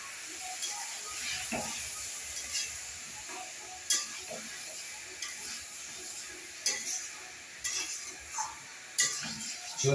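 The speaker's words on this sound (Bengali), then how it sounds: "পকোড়া করে রেখে রাখা মাংস, অর্থাৎ চিলি চিকেনের যে প্রিপারেশন, জাস্ট নেড়ে নেবেন।" Chili chicken pakoras sizzle in a pan while a spatula stirs and scrapes, with steady frying hiss under repeated close clinks and scrapes of the utensil.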